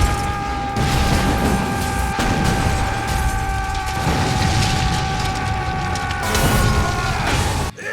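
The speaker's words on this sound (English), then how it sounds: "the film lights a few fireworks" Continuous loud booming and crackling bursts of fireworks in the anime film Steamboy, dense and sustained, with a sharp cut near the end.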